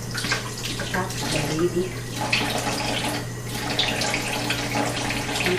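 Water runs steadily from a tap over an orchid being washed, a continuous broadband splashing with a low hum beneath it, while a voice speaks briefly over the flow.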